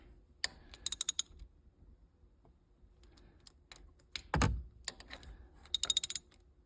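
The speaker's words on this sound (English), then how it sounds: "I'm gonna go ahead and start tightening these bolts down" Shifter bolts on a Mustang being tightened down evenly with a hand ratchet, quiet bursts of rapid clicking separated by pauses, with one louder dull clunk midway, close and alone in a quiet space.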